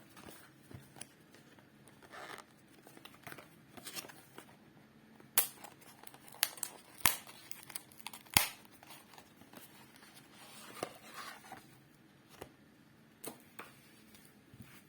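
Packaging of a Yu-Gi-Oh structure deck being opened up close: scattered crinkles, tearing and plastic snaps, with a few sharp clicks and rustles over a quiet room.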